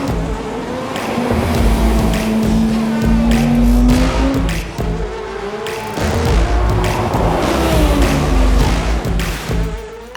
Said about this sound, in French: c'est une voiture qui peut prendre jusqu'à 9000 tours en mode sport max